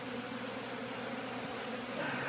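Honey bees buzzing inside a house's bay window, a faint, continuous hum with no breaks.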